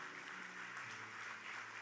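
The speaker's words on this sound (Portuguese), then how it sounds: "Quantos podem aplaudir ao Senhor pela vida desses irmãos?" A church congregation claps in steady, dense applause, a continuous wash of hand claps at low level with a faint hum or tone underneath and no clear speech.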